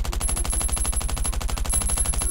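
Rapid automatic gunfire in the survival video game Last Island of Survival, a fast, even burst of shots, loud and close, with a high electronic tone running above it.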